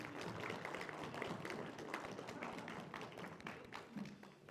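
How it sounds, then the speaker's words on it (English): Audience at a live talk event applauding, a fairly faint, steady patter of many hands clapping throughout, with light thumps mixed in and no speech over it. "Can we give a huge round of applause to them"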